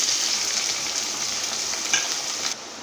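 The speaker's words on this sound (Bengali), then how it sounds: "দেখুন, আমি এখন এতে দিয়ে দেব পেঁয়াজ কুচি।" Chopped onions fry in oil with dried chili and whole garam masala for a yogurt chicken dish, giving a steady, close hiss and sizzle throughout with no talking.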